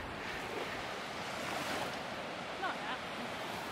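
Steady, roaring wind buffets the microphone outdoors by a lake, a broad rushing noise with faint water wash underneath and no pauses.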